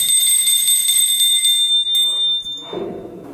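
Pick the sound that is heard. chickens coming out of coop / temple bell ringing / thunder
temple bell ringing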